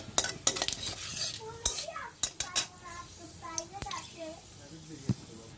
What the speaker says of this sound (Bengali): আর এতে আমি দিয়ে দিচ্ছি শুকনো লঙ্কা আর দেব হলো গিয়ে একটু পাঁচফোড়ন তো এবার মশলাটা একটু ভেজে নিচ্ছি